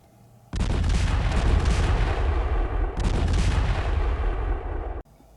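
Heavy weapons fire in a Classic Battletech mech battle, with Gauss rifle, medium laser and LRM and SRM missile launches blasting out as two long, loud, dense roaring bursts separated by a brief break, then an abrupt cutoff.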